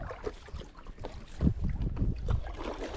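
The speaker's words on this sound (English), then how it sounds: "It's so windy." Gusty wind on a lake buffets the microphone in low, rumbling surges, with water sloshing faintly underneath.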